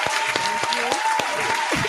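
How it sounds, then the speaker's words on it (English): A small podcast studio audience claps for the host's cousin, a few distinct sharp claps spaced through the moment with light chatter and a voice cutting in near the end. "let's clap it up for my little cousin"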